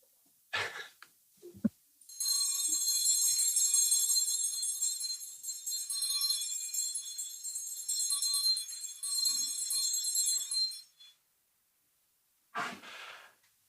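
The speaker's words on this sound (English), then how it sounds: "Division's been called. Ring the bells." Division bell in a youth parliament chamber rings continuously for about nine seconds, a bright sustained electric ring with brief breaks, loud and fairly close, with a few quiet vocal sounds before and after.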